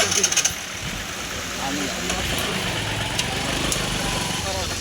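A motorcycle engine runs steadily as a minister rides off on a village road, a continuous rough drone at moderate loudness with voices talking over it.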